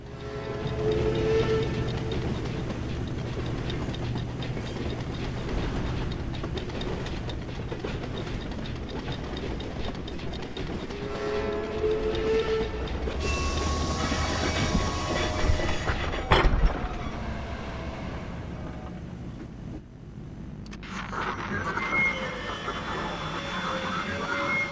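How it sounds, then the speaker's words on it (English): A toy train rides along its track in Poppy Playtime Chapter 4, with steady rumbling, rhythmic clickety-clack and brief squeals and clanks along the way. "let's take the toy train"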